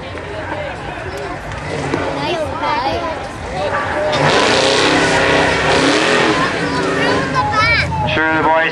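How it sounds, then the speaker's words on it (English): A big Chevrolet truck in a 4x4 tough-truck challenge at a fair in Ontario, its engine revving hard and loud as it drives through a small pit, with a crowd and an announcer talking over it. "Got the big Chev going through the small pit here."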